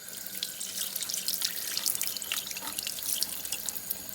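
Tap water runs steadily over hard boiled eggs being rinsed under a faucet at a sink, a continuous close splashing hiss with no talk.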